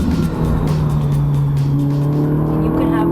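A Ferrari runs on the Buddh International Circuit race track, its engine a loud, close, sustained drone with rising tones as it accelerates, and a faint tire squeal.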